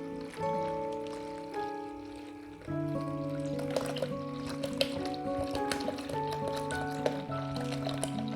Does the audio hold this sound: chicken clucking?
no